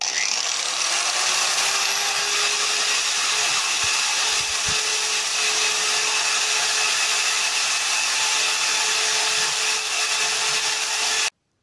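An angle grinder sharpens a steel bolt in a loud, steady high-pitched whine that holds evenly for over ten seconds, with a few faint knocks underneath, then cuts off abruptly.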